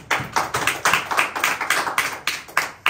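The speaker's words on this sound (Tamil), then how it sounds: "கைத்தட்டி ஆண்டவர் மகிழ்ப்பார்." A congregation clapping hands in praise at a Tamil church service, about a dozen crisp, fairly evenly spaced claps in a steady rhythm, heard alone.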